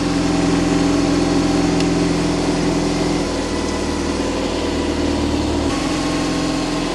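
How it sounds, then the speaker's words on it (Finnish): A motorcycle engine, started from a completely dead battery with a Popdeer PD-JA5 5000A jump starter, runs steadily at a loud, close idle, its tone shifting slightly partway through, with no talking. "Niin tällä laitat käyntiin tämän moottoripyörän."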